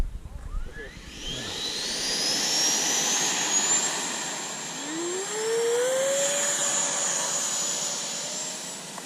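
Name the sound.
Freewing F-22 Raptor 90mm RC jet taking off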